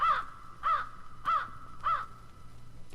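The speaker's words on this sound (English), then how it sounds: "The great black crow that never seemed to be far from her flew to the sill." A large black crow caws four times in an even rhythm, each harsh call clear and fairly close, with faint background hiss between calls.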